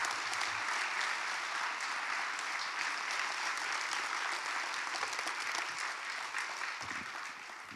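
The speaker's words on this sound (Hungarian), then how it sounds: "Én kérhetek még egy tapsot?" A large hall audience applauds at a National Poetry Day event in Újpest, dense continuous clapping filling the room at full strength before tapering slightly near the end.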